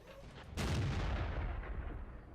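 A tank's main gun firing in the World of Tanks video game, a single heavy boom that hits sharply and then rolls into a long, fading rumble.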